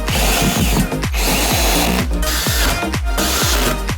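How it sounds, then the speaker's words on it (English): A HART 20V 1/2-inch cordless drill/driver whirs in repeated short bursts, speeding up and slowing down between pulls, loud and close with a ratcheting mechanical edge. "My trusted drill gets it all done."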